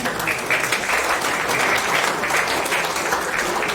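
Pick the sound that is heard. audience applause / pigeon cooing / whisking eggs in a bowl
audience applause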